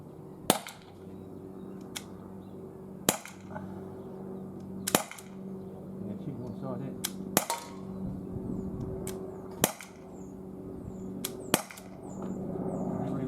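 An Umarex HDR 50 revolver fires a slow series of sharp, loud single shots, roughly one every two seconds, each a crisp crack over a low steady hum with no talking.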